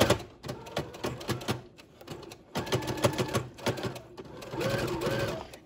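A sewing machine stitches straight across a handmade fabric face mask, its rapid mechanical chatter running in close bursts with short pauses between runs.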